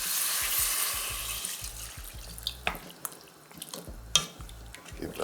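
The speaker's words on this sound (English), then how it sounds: "Now I'm gonna add some water." Water poured into a pan of frying curry potatoes, starting as a hissing sizzle and pour that settles into bubbling, with a few utensil clinks against the pan.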